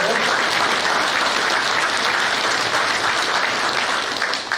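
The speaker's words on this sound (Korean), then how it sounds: "박수 안 주시나요?" Loud, dense applause from the crowd at a party founding convention, sustained and even throughout before tapering slightly at the very end.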